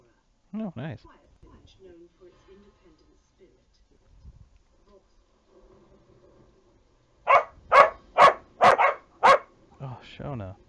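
A dog named Daisy barks five times in a quick, loud, evenly spaced burst, with people talking before and after and a quiet stretch between.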